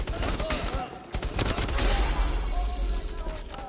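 Gun fire in the VR video game Bravo Team, a run of sharp shots and bursts over a low rumbling game backdrop.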